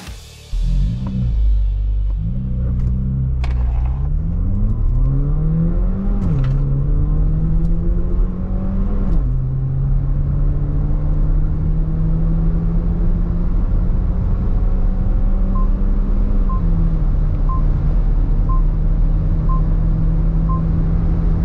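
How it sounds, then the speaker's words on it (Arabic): A 2023 Haval H6 GT accelerates hard from a standstill, its engine note climbing steadily through several gear changes with brief dips between shifts, then settling into a loud, sustained cruising drone with road rumble, close and continuous. "خلينا نعمل التسارع السيارة ونشوف اداءها الان"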